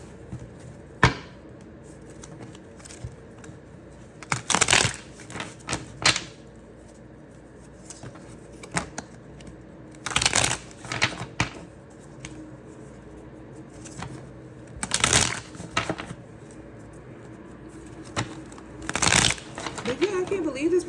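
Tarot cards being shuffled in short riffling bursts that recur every few seconds, with quiet talking underneath between the shuffles.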